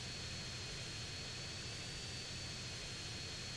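Airplane in the video game GTA San Andreas, heard as a faint, steady engine drone that holds unchanged throughout with no voices.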